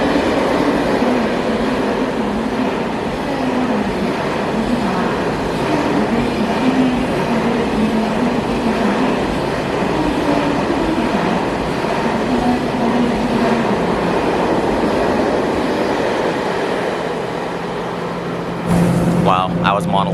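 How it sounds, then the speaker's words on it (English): Train pulling into a station in Seoul, a loud, continuous rumble of rolling cars and wheels on track that eases off near the end, followed by a brief chime. "This is my train apparently."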